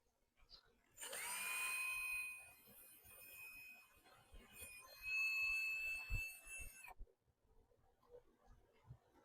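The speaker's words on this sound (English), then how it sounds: "The peg holes did not go all the way through, so I need to drill." A small power drill whines at high pitch in two bursts, drilling through peg holes, with quiet handling noises and soft knocks between and after.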